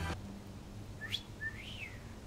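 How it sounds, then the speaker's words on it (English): A person whistles a cat call: a quick upward sweep, then a longer rising-and-falling note. It is faint and close, with no other sound around it. "The only thing I can whistle is a cat call."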